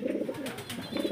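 Lahori pigeons, shown as a pair, give a low, repeated cooing that rises and falls over about a second, fairly close with a light rustle in the background.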